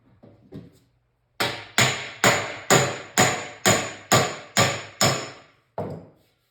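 Nine even, sharp taps in a steady rhythm, close and loud, as Bondo body filler is tapped down on a Harley-Davidson part during bodywork, followed by one last tap after a short pause.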